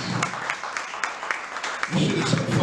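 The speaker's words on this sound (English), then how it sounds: "Clap it up for coming out tonight." A comedy show crowd applauds in scattered claps that swell into fuller clapping and cheering toward the end, with chatter underneath.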